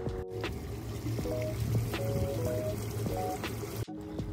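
Water trickles and splashes steadily around a constantly spinning globe fountain outdoors in Nashville, a moderate continuous flow with faint tonal chimes and background murmur mixed in.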